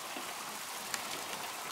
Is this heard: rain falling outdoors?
yes